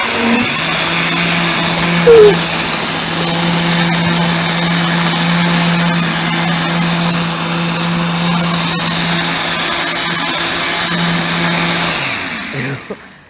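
A powerful blender runs steadily for over ten seconds, a loud, dense mechanical roar and hum that holds even and then cuts off near the end.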